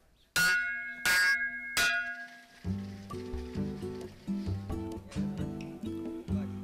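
A lunch bell at a fishermen's dining hall in Sri Lanka clangs loudly three times in quick succession, ringing out clearly, then a light plucked tune begins playing.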